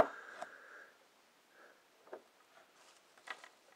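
A person sniffles several times in short nasal bursts, quiet and close, with soft gaps of near silence between them.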